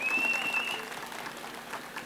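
Brief applause from an auditorium audience at a Tamil lecture event, a dense but modest patter of clapping that fades slightly over about two seconds, heard from a distance.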